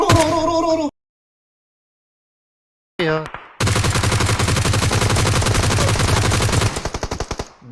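Rapid automatic gunfire in a shooting video game, sustained loud bursts after a brief snippet and a silent gap, with sharp repeated shots and a tapering tail.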